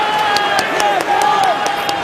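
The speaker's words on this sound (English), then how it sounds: "And the cheers are Gloucester cheers." Gloucester rugby fans cheer and clap in the stands at a Premiership match away at Northampton. The broad crowd roar carries on under a commentator's voice.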